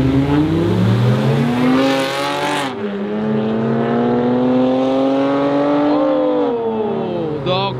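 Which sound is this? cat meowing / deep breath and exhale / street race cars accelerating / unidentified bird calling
street race cars accelerating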